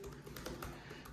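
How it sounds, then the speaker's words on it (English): Quick, irregular clicks of a computer keyboard being typed on, quiet and close, a short burst of keystrokes alone without talk. "I'm going to kick it off by typing in configure"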